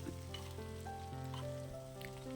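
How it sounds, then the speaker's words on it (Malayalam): Chopped bottle gourd sautéing in oil for a curd curry, a soft, steady sizzle close up with faint stirring touches, under a sustained musical tone, no speech. "ഇനി എണ്ണയിലിട്ട് നല്ലവണ്ണം ഒന്ന് വഴറ്റിയെടുക്കണേ."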